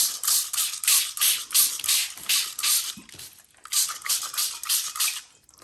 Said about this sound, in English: I'm just taking my spray bottle and I'll make them wet.